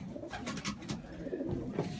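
Pigeons cooing inside a loft during moult: steady, close, soft throaty coos and murmurs layered over one another, with no voices.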